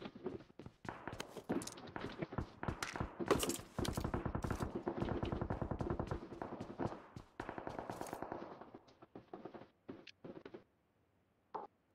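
Bots in the mobile battle-royale game PUBG Mobile fire rapid automatic bursts, then slower single shots at close range, and the shooting thins out into scattered distant pops before fading.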